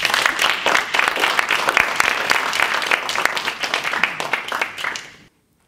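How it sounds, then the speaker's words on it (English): A crowd at a live public-speaking event claps for a speaker taking the stage, loud and dense applause that holds for about five seconds before cutting off abruptly into silence. "Please give a huge round of applause for Adele."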